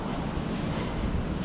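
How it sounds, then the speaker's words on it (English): Subway train rumbling beneath Montague Street in Brooklyn Heights, a steady dense low roar with a broad hiss on top, continuous and fairly loud with no voices. "there's a subway station right underneath to the R"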